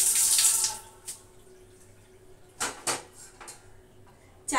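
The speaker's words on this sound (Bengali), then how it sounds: "চায়ের জল বসিয়ে দিলাম।" Tap water runs briefly into a vessel for tea in a home kitchen, a short hissing gush at the start followed by quiet room tone and a few scattered clatters and knocks.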